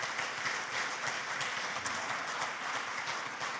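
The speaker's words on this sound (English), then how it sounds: "why don't we give everybody involved and all of our winners another round of applause this evening" Banquet audience at an awards dinner applauding the winners, a dense, even round of clapping filling the short moment, moderately loud.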